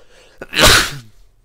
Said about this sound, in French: Éternuement.